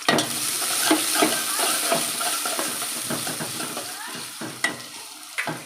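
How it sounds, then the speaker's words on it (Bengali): Garam masala and green chilies fry in hot oil in a pan, a continuous close sizzle broken by repeated scraping and clinking as a spatula stirs them. "গরম মশলা দিয়ে দিলাম এখন কাঁচা কাঁচামরিচ দিয়ে দিলাম"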